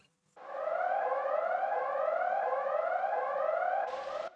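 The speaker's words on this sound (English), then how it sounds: "we were then awoken by a really loud and an annoying alarm" A loud electronic alarm siren in Xenoblade Chronicles 3 starts abruptly and repeats rising sweeps in a steady rhythm, then cuts off into a brief burst of noise.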